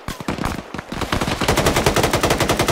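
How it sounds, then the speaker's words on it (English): Automatic weapon fire in Arma 3 rattles in rapid, loud, close bursts that run almost continuously through the moment. "They're shooting or throwing explosives."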